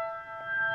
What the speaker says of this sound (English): It's just a piano played backwards.